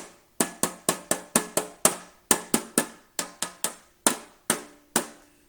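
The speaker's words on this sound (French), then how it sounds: "J'ai pris une cuillère de bois que je trouve intéressante pour frapper, pour les instruments à frapper. Donc, regarde, j'ai une boîte de métal ici." A wooden spoon strikes a metal box again and again, each sharp, ringing tap decaying quickly, in uneven bursts of quick hits with brief pauses, close up and alone.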